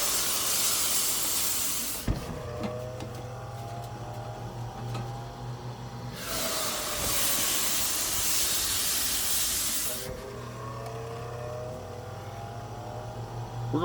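Ribeye steaks sizzle on a hot Ninja Woodfire grill outdoors, a steady broadband hiss that swells loudly in bursts as the meat hits the grates, with a low hum underneath and no talking.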